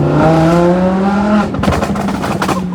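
A loud Lamborghini engine revs up with a rising, roaring tone, then crackles and pops as it drops back, close by.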